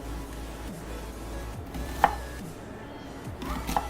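A kitchen knife trims the ends off vegetables on a cutting board, with a few soft separate chops and one sharper knock midway over a quiet room, no speech.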